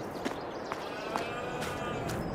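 Sheep on a Missouri farm in Farming Simulator 22 give several short bleats at moderate distance over a constant background hum, spaced about half a second apart.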